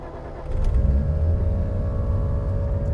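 A turbocharged BMW M3 engine on a dyno cranks and fires at about half a second, then settles into a loud, steady idle with a deep low rumble and no talk over it.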